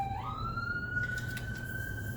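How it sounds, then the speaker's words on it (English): A siren on a passing emergency vehicle, likely a police car, rises quickly into one steady high wail that holds clear and fairly close over a low background hum. "just gonna wait for this last siren to go by"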